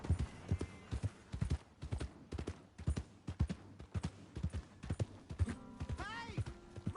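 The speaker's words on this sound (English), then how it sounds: "Hey! My horse!" Rhythmic clip-clop of horse hooves in Red Dead Redemption 2, a steady walking gait of close, distinct thuds, ending with a brief whinny-like rising tone near the end.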